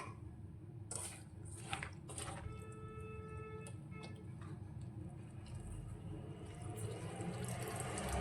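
Water trickles and drips steadily as soft bitter gourds are pressed and squeezed, with light clicks and squishy handling sounds throughout.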